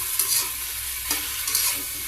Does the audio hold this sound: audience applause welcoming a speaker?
no